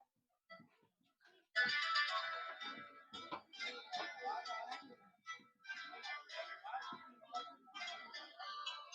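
A phone rings in the middle of a maths class, a bright electronic ringtone that starts suddenly and keeps going in uneven bursts.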